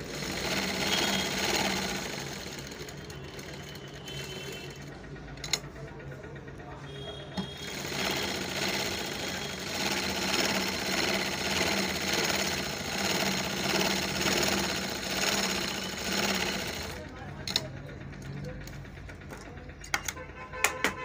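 A large sewing machine stitches in a steady, fast mechanical rattle after its shuttle timing is adjusted, running continuously while someone talks over it.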